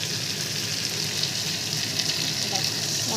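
Water hits a hot spice mixture being fried in a pan for a fish and potato curry. A dense, steady sizzle holds close and loud throughout.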